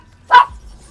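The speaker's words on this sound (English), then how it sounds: "Oh, and there's my dog on cue." A single short dog bark, loud and close, in an otherwise quiet room.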